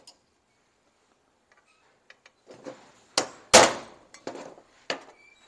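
Several sharp hammer strikes ring out at irregular intervals, with one especially loud, clanging blow in the middle and quieter taps around it.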